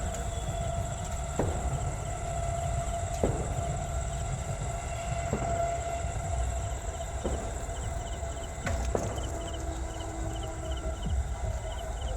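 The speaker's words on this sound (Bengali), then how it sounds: "এই ট্রেন যাচ্ছে" A train passing in the distance on an evening in a dark village, a steady rumbling rail drone with faint periodic clicks and high insect chirping layered throughout.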